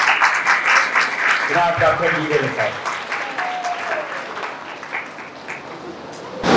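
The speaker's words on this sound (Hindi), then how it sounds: "तालियों में प्लीज" Church congregation applause welcoming a doctor to speak at a tribute service for a pastor, steady clapping with someone talking over it and a brief musical tone in the middle.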